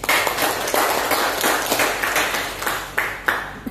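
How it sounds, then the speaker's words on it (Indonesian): An audience at a mining company's internal audit meeting applauds, with a burst of scattered, moderately close clapping from a small indoor group that rises and tapers over a few seconds. "Tepuk tangan dulu."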